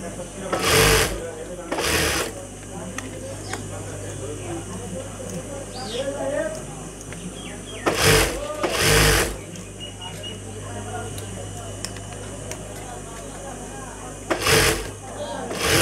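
A sewing machine stitches a boy's salwar in short bursts, loud rattling runs separated by longer pauses, while someone talks steadily throughout.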